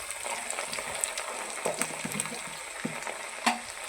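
Dried prawns fry in a pan, crackling and sizzling steadily close by, with occasional stirring scrapes and small pops and no voices.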